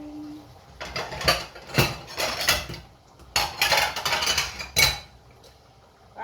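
A yogurt pot and a spoon are handled in a home kitchen, with bursts of clinking, clattering and rummaging close by, separated by short pauses.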